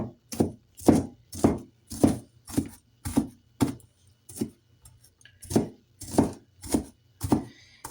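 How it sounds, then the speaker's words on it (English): A knife chopping an onion on a cutting board in a steady rhythm, about a dozen crisp, evenly spaced thuds with a brief pause midway. "I'm just cutting down one onion."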